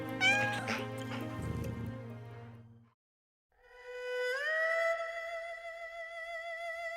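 A cat in the animated film Flow lets out a long, plaintive meow up close, followed after a short silence by another drawn-out rising and falling meow, clear and alone.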